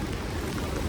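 Monsoon rain falls steadily outdoors as a dense, even hiss of drops at constant loudness, with no voices.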